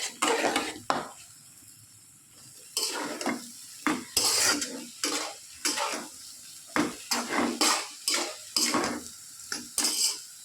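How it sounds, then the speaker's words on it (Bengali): Banana flower stir-fried in a pan makes bursts of sizzling and scraping as a utensil pushes it around, in irregular strokes separated by short pauses, close by with no talk. "এখন আমি মোচাটাকে প্রায় ভাজা ভাজা মতন করে নিয়েছি"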